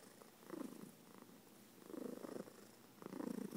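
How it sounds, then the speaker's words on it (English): Pet cat purring in soft, rhythmic waves during a belly rub, each low rumbling swell rising and fading three times, close and fairly quiet with no talking. "You're purring."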